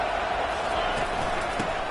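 Stadium crowd noise from the College Football 25 video game, a dense steady roar that holds level throughout with no distinct individual voices.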